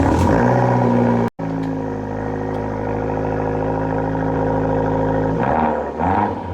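A car interior while driving, with a steady droning engine and road hum at a constant pitch, one abrupt momentary dropout, and a shift in the tone near the end as the engine note changes.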